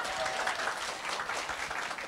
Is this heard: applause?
yes